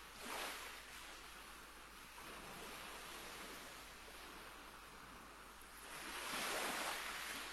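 Ocean waves wash in and out in a broad, steady roar, with surges swelling at the start and again near the end, heard from a jetty with some wind rushing over the microphone.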